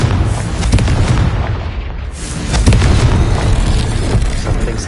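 Confringo fire-spell explosions in the video game Hogwarts Legacy, a loud, dense roar of booming blasts that dips briefly and then surges again, with no talking.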